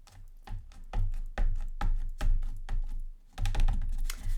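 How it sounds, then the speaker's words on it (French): A small Mipin eraser is tapped repeatedly on a watercolour drawing of mimosa, giving close, quick, irregular knocks in a steady patter with no voices. "Avec la petite gomme Mipin. Voilà, je tapote."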